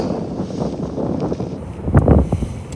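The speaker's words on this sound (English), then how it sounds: "Struggling in this wind." Strong wind buffets the microphone on a fishing boat out on the water, a steady low roar with louder gusts near the end and no talk.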